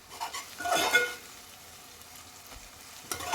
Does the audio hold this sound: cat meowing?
no